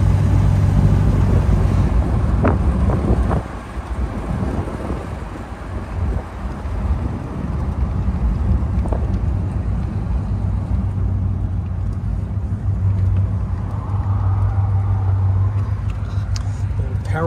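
1956 Packard Caribbean convertible with dual four-barrel carburetors accelerating on the road, a deep steady engine rumble with heavy wind noise, loud and close inside the moving car.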